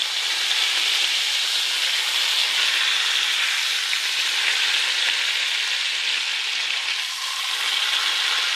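Liver sears in butter in a hot pan, giving a loud, steady sizzle and hiss that stays dense and unbroken throughout, with a slight dip near the end.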